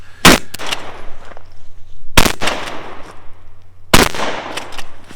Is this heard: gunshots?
yes